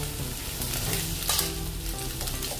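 Large slices of deseeded capsicum drop in with carrots in a hot pan and fry with a steady, close sizzle and crackle, plus a few scraping stirs, with no voices.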